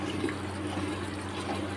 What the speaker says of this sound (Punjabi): ਆਪਾਂ ਥੋੜਾ ਜਿਹਾ ਪਾਇਆ ਪਾਣੀ